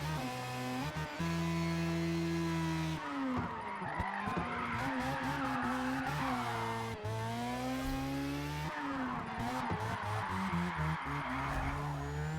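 RX3 race car in a racing game swinging through a handbrake turn, a loud revving engine with harmonic whine shifting pitch and broadband tire skid noise, continuous and close throughout.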